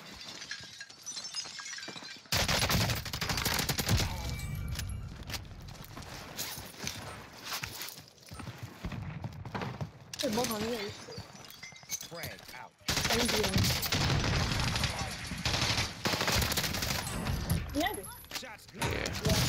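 Gunfire in Call of Duty Warzone, with sharp bursts and shots in a chaotic, loud mix alongside other game noise and excited players talking over it.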